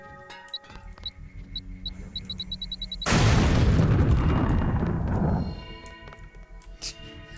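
A loud, sustained explosion in the video game Deus Ex roars in mid-clip for about two seconds, broad and rumbling, between quieter electronic game beeps and tones.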